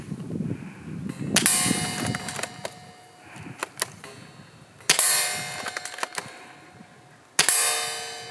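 Airsoft sniper rifle loaded with a Tokyo Marui magazine firing in a comparison of AWM and L96 AWS rifles, with three sharp, close cracks spaced a few seconds apart amid quiet handling and mechanical clicks.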